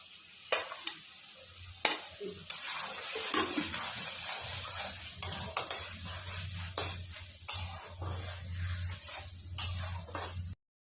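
Tomatoes fry in spiced oil in a pan for a soybean curry, a steady close sizzle broken by repeated scraping stirs of a spoon against the pan, with no talking.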